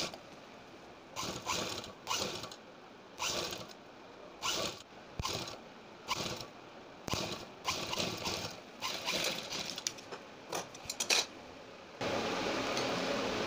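A sewing machine runs in repeated short bursts, stitching piping onto fabric for the back neck of a kurti, its mechanical whir stopping and starting with brief pauses between runs.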